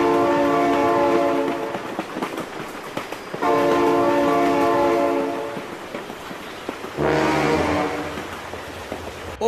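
Loud blasts of a train horn in BeamNG Drive, sounding twice in long sustained chords, then a third bending blast as the train rushes past with rumbling wheels beneath; no voices.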